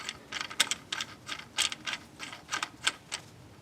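A part is screwed onto the AC compressor clutch of a 2001 Buick Park Avenue, giving a series of quick, close mechanical clicks and ratcheting ticks in an uneven rhythm, with no talking.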